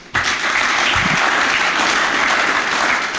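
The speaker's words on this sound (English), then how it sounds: "can we have a round of applause again for him?" Sustained applause from an audience filling a hot hall at a university Pan-African students' association celebration of African Liberation Day, dense and steady throughout with no talk over it.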